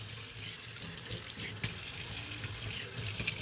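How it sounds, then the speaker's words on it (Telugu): An ordinary kitchen tap runs continuously into a sink while glasses are washed, a steady close splashing stream with small clinks and surges. "ఇదేమో మామూలు ట్యాప్, రన్నింగ్ వాటర్"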